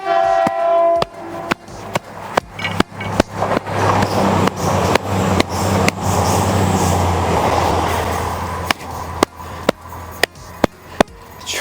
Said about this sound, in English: Trains are so loud, it's absolutely ridiculous.